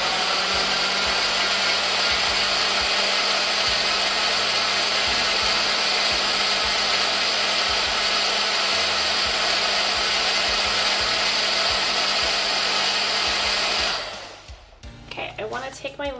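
A kitchen blender liquefies roasted butternut squash soup, a loud, steady whirring roar that runs unbroken for about fourteen seconds before cutting off abruptly into quieter handling noise.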